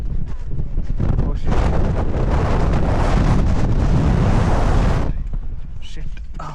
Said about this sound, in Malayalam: ഇപ്പൊ കാറ്റ് കൂടാൻ തുടങ്ങിയിട്ടുണ്ട്